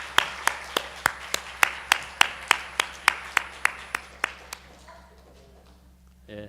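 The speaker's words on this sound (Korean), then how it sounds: "다시 한번 우리 박수하겠습니다" A church congregation clapping in a slow, even unison rhythm, about fifteen sharp claps spaced evenly, fading out near the end, with a low hum underneath.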